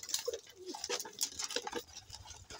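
CFL-banded pigeons cooing close by in a loft, with soft repeated coos mixed with scattered higher chirps and light rustling.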